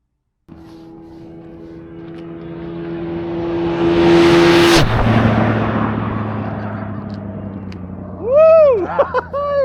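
Two BMW R1300GS motorcycles, one fitted with a Bren Tune Stage 2 exhaust, accelerate hard with a rising engine drone that builds to a loud peak, followed by a throaty roar and several revving sweeps near the end.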